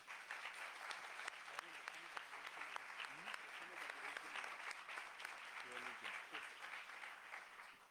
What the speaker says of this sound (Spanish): les pido que les demos un aplauso a nuestros invitados especiales